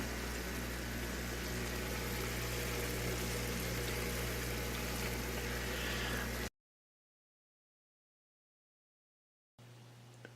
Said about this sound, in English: That's a 7-inch air stone down the bottom that I showed earlier, and this air pump.